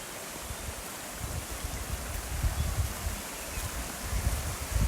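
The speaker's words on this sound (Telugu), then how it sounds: "ఇలా పైనుంచి కొండల మించి వాటర్ వస్తుంది." Water runs down from the hills as a stream near a resort outside Araku, a steady broadband rush that stays even and moderately faint throughout, with no voices.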